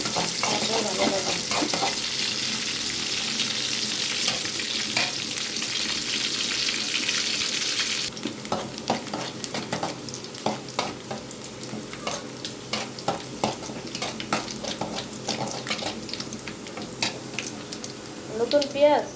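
Rui fish and flat beans frying in a pan, with a steady loud sizzle that drops partway through, then repeated scraping stirs and clinks over a softer hiss.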